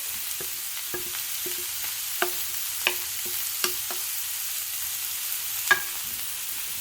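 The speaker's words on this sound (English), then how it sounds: "I'm also at this point going to add my garlic" Ground beef sizzles in a pan as garlic goes in, a steady fry broken by sharp clicks and scrapes of a spoon stirring at irregular intervals.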